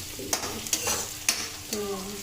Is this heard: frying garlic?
yes